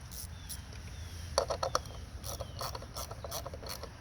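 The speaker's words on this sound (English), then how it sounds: "we're putting this other bolt in, 10mm, to bolt it back on" Quick ratcheting clicks in short bursts as a 10mm bolt is tightened on a 2018 Kia Forte 2.0 engine during a spark plug and ignition coil job, close and fairly quiet over low background hum.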